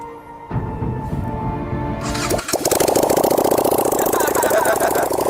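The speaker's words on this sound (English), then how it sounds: "this is the sound from a twin cylinder cruiser motorcycle" A twin-cylinder cruiser motorcycle engine cranks and catches, then settles into a loud, rapid, lumpy idle with a steady throbbing rhythm close by.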